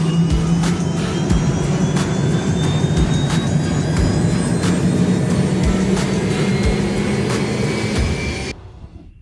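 A gyroplane flying near an airfield in Costa Rica, its engine droning loud and steady with a rhythmic rotor chop before cutting off abruptly at the end.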